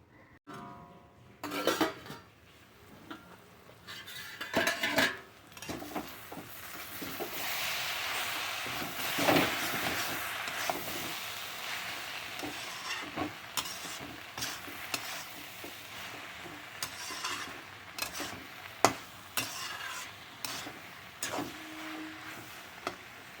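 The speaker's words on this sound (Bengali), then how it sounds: "আর একটু কিছু সময় ঢেকে ঢেকে এটাকে নেড়ে নেব।" Cabbage and fish head sizzle in a pan while a utensil stirs them, with repeated scraping and clattering strokes over a steady fry, close and fairly loud with no talking.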